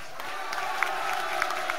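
Concert crowd at a live show in Osaka, applauding and cheering steadily as a guitarist is welcomed on stage, a dense, continuous wash of clapping with a few sharper peaks.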